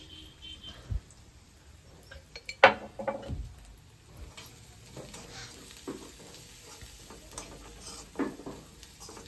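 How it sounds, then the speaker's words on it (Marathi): Masala sizzles in hot oil for a clam curry, with soft frying crackle under stirring and occasional clinks of a utensil against the pot, fairly quiet and close. "तेलावर मसाला टाकायचा मग चव भारी येते"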